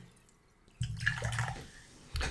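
Water poured right beside a microphone, a short gurgling splash that starts abruptly, runs about a second, then returns briefly at the end; close and fairly loud against a quiet background.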